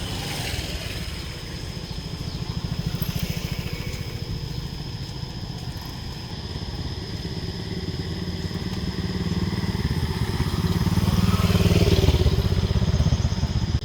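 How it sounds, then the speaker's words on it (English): Motorbike engines idle and putter in a crowded hospital parking area in Saigon, a steady mid-range rumble with clattering, one engine swelling louder toward the end as it revs nearby. "Leaving the hospital, I went to the motorbike parking area. The parking area was crowded"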